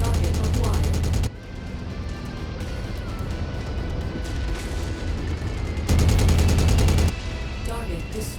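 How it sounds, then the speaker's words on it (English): Rapid machine gun fire from a mech in MechWarrior, loud dense bursts rattling for about a second at the start and again near the six-second mark, with a quieter rumbling battle bed in between. "Just something about the sound effect of the machine gun that's so satisfying for me."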